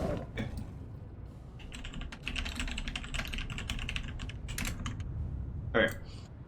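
Close clicking and clacking of keys on a computer keyboard in quick, irregular bursts, fairly quiet, with a brief louder knock near the end.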